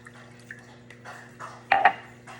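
Tap water is added to a red cabbage indicator solution in an acid-base lab, giving a couple of quick, close drips and splashes near the end against a quiet background.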